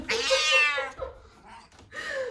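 A house cat meows loudly and close by in a long drawn-out call, followed by a quieter second meow, in an indoor home setting during a yoga class.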